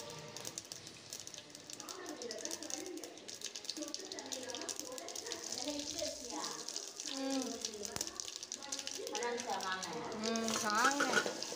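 Mustard seeds splutter and crackle in hot oil while tempering rasam, a steady busy sizzle running under a voice speaking throughout, growing a little louder toward the end.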